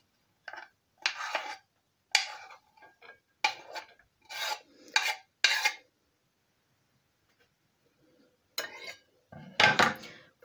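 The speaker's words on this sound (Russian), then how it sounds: "Просто вот так перемешиваю, слегка раздавливая лук, чтобы он отдал свой сок." Onion, fish and salt being mixed and lightly crushed in a dish, giving scraping, rubbing strokes of utensil against the bowl in uneven bursts with quiet gaps between, close up.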